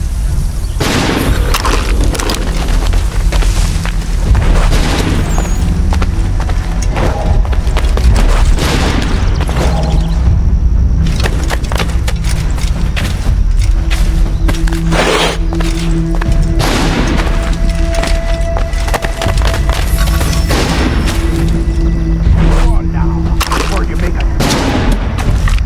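Dense gunfire and booming blasts from the Assassin's Creed video game, with loud rapid shots and heavy thuds piling up continuously, and voices occasionally breaking through the barrage.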